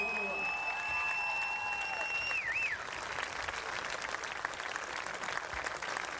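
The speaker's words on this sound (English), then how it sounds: "How about a nice round of applause for the state runner-up?" A crowd at the 2012 CIAC Class M softball championship applauds the state runner-up team, Granby Memorial, a steady wash of clapping across the whole stretch with a whistle near the start and voices mixed in.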